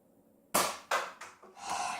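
Nerf gun fired at targets in a room, with four sharp pops: a sudden loud shot, a second quickly after, then two fainter ones close together. No talk.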